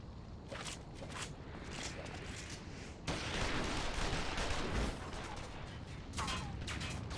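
Gunshots in a cutscene of the video game Final Fantasy XIV: rapid overlapping bursts of fire with sharp cracks, growing into a dense, louder volley midway, then a few more scattered shots.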